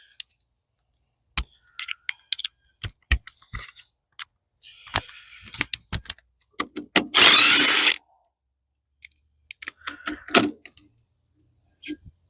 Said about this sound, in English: Now we can use some power tools.